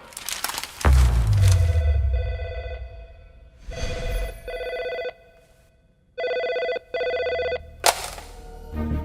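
A mobile phone ringtone in a dramatic South Indian film scene dubbed in Hindi: loud, tonal electronic ring bursts repeat several times with short silences between, after a heavy opening thud.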